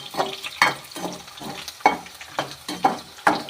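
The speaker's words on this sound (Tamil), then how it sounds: "பூண்டு வந்து கொஞ்சம் நல்லா பொரியும்." Garlic frying in hot oil for a tamarind curry, crackling and sizzling in close, repeated bursts as it is stirred, about one every half second, with no talk.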